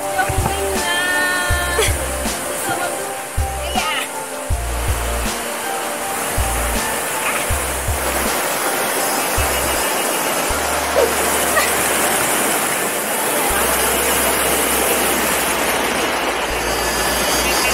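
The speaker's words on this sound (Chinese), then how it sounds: "终于来到月眉坑瀑布" Yuemeikeng Waterfall, a hidden stream-trekking spot in Jiaoxi, Yilan, Taiwan, gives a steady, loud broadband rush of falling water that runs unbroken throughout, with low tonal sounds layered underneath.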